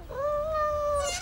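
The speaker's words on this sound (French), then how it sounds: "Tais-toi, espèce de sale chat, ou on va t'empailler." A cat gives a single drawn-out meow, close and fairly loud, with no talking.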